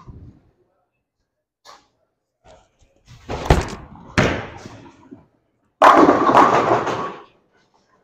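A Storm Absolute bowling ball thrown down the lane: a sharp release thump, a rolling rumble, then a loud crash of pins, with scattered short sounds and faint talk around it.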